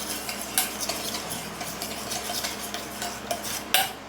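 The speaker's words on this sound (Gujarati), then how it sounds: "જ્યાં સુધી તે એકદમ સ્મૂથ પેસ્ટ ન થઈ જાય ત્યાં સુધી આપણે તેને ફેંટવાનું છે" Yogurt and oil whisked in a bowl into a smooth paste for methi muthiya, with quick rhythmic scraping and light clinks of the utensil against the bowl, close and steady, with no voices.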